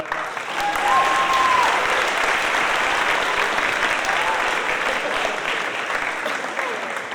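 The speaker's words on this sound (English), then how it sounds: "Seniors, let's give our parents a round of applause." High school seniors at a Class Day 2023 ceremony applaud their parents, a broad, sustained roar of clapping from a large crowd that holds steady for several seconds, with a brief whistle early on.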